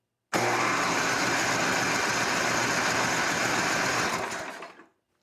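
Small snow blower engine running after a carburetor cleaning, a sudden loud continuous buzzing drone starting at once and holding steady before fading out at the end.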